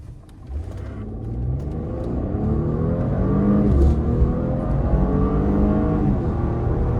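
A Porsche Cayenne in Sport Plus mode pulls hard from a standstill to 100 km/h, its engine note climbing steadily through the gears in a loud, continuous rising roar heard from inside the car.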